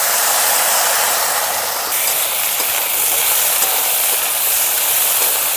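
Cornflour slurry poured into a pan of cooking chilli soybean sets off a loud, steady hissing sizzle that holds at an even level throughout, with no talking.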